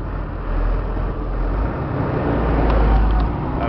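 Refrigerated box truck engine running while driving, a steady low rumble and drone from inside the cab that swells slightly toward the end, with no talking.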